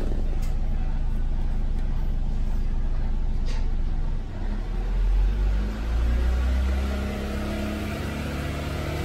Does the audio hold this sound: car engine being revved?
yes